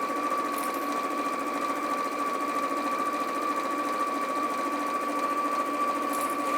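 A sewing machine purrs continuously while stitching strips of fabric together, giving an even, steady motor hum with a rapid needle rhythm, close and constant throughout.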